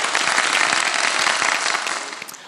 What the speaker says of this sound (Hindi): बजा दे, तालियां बजा दे भाई।